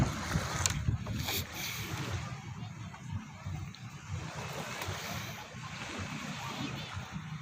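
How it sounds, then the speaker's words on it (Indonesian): Waves wash and break along Akkarena Beach in Makassar at sunset, a steady close rush of surf with scattered splashes and a low rumble throughout, while indistinct voices murmur underneath. "Kita berjalan dengar deburan pantai."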